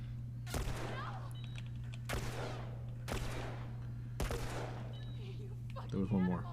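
Gunfire in The Last of Us Part 1 comes as four sharp, loud shots spaced about a second apart over a steady low hum, followed by a brief voice at the end.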